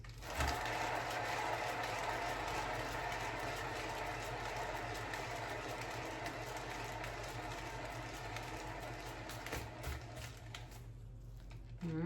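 A paint spinner whirring steadily for mini blooms pour art, a continuous close mechanical hum that runs without a break and drops off near the end.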